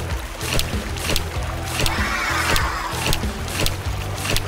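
Rushing, churning water with broadband splashing surges over a steady low mechanical hum from a LEGO wave-making machine, continuous and fairly loud throughout.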